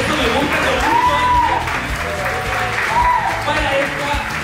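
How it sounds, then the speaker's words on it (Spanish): Audience applause welcoming performers onto a stage at a television channel's launch gala, loud continuous clapping throughout, with voices and some music or tonal sound mixed underneath. "Fuerte aplauso para ellas."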